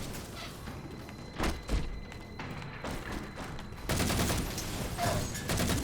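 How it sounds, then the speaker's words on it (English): Grenade toss and explosions amid gunfire in the shooter video game Halo 4, with muffled thumps, a louder boom and dense rattling weapon fire building to a sustained barrage. "That was a terrible, terrible grenade toss."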